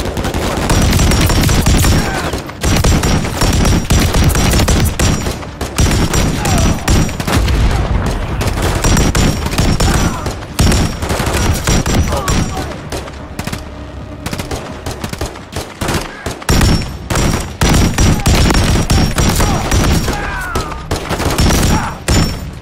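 Sustained gunfire from Call of Duty: Modern Warfare III, a dense, loud fusillade of rapid shots and bursts filling the whole stretch with only brief lulls, occasional booms mixed in.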